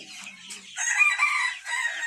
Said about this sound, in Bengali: ব্ল্যাক কোচিন। এরপরে রয়েছে লাইট ব্রাহ্মা, অনেকগুলো মুরগি রয়েছে।